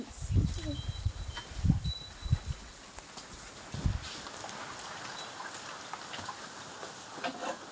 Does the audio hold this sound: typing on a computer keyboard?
no